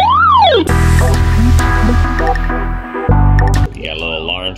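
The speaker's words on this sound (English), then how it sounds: "We got a little alarm sound right there" A short electronic alarm tone from a D8 wireless walkie-talkie cycles through warbling, siren-like patterns, loud and close, with some voice-like sounds mixed in.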